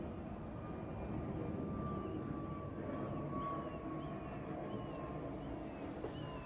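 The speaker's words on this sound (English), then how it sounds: "Plane is going by" An airplane passes overhead outdoors, a steady broad roar that stays loud and even across the whole stretch, with no talking over it.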